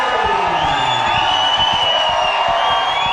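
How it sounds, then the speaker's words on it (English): A fight crowd in the VIP seats at a martial arts event roars and whoops, a loud continuous wall of cheering with rising shouts throughout, near and without pause. "It looks like everybody in the VIP seats just stood up and went crazy all of a sudden."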